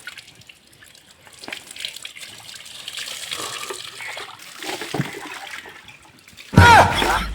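Water gushes from a tap into a bowl, entering loudly near the end after a stretch of quieter indoor sounds and faint activity.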